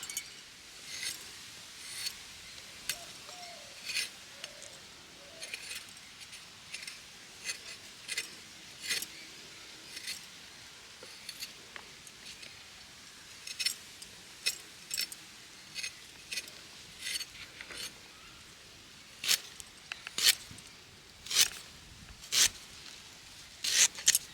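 Fresh ginger is peeled and cut into small pieces in a kitchen. Sharp, quiet knife taps and scraping clicks repeat at an uneven pace over a faint, still background.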